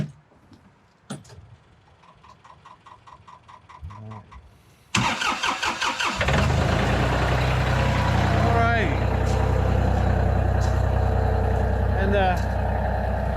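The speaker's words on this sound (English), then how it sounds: "This is going to be my tractor. It's going to get loud here in a second" A tractor engine cranks and catches, then settles into a loud, steady idle, with a person speaking briefly over quieter background sounds before it fires up.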